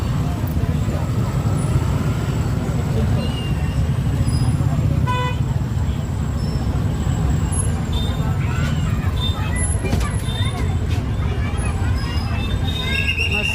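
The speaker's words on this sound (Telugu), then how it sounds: "ఇట్లా బస్సు వెళ్తుంది, గంట సేపు అవుతుంది. ఫుల్ ట్రాఫిక్ చూడండి ఎట్లుందో." A bus creeping through jammed traffic at a busy vegetable market in Tirumalagiri colony, with a loud constant engine rumble, repeated car and bike horn toots, and crowd babble mixed with nearby talk.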